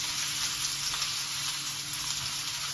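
Garlic sizzling and frying in a hot pan as the base for a Filipino-style chicken curry, a steady, dense crackle holding even and close throughout with no voices.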